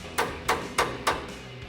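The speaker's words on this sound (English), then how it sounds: "Once you get that started in between there, you can then tap the rest of it away in with a hammer." Hammer tapping a collar into place on an Eibach Pro-Truck coil-over for a 2024-2026 Toyota Tacoma: four evenly spaced, sharp metallic knocks about a third of a second apart, close and clear with no talk.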